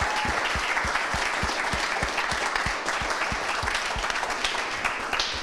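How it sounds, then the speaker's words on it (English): A meetup audience applauds after a talk, a steady dense clapping that runs loud and continuous throughout, close to the listener, with no talking over it. "I think you deserve another applause"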